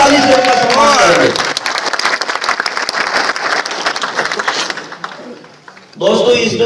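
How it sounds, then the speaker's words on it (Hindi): An audience at a motivational business seminar bursts into loud, sustained applause that fades out, and a voice then resumes talking over a microphone. "एक बार जोरदार ताली से उनका सम्मान करेंगे।"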